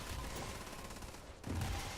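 Gunfire in a video game rattles in a rapid, faint burst, with a heavier blast near the end, brief and with no talk.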